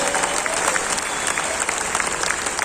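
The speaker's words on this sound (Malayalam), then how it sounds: "ഇവിടെ കിട്ടിയ കൈയടി ഒന്നും എനിക്കുള്ളതല്ല" A crowd of leaders at an on-stage address applauds loudly and continuously, a dense close wash of clapping with no voices over it.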